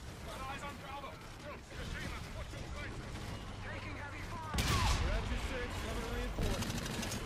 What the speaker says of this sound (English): Ooh, gunfire.